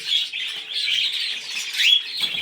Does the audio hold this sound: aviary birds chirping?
yes